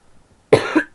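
A person coughs sharply once, then a second cough follows a moment later, both close and loud after near silence.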